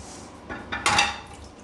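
A pot being lifted and handled in a kitchen, near a pressure-cooked beef tongue with caper sauce, giving a few close clattering knocks and clinks of cookware that rise and then fade within a couple of seconds.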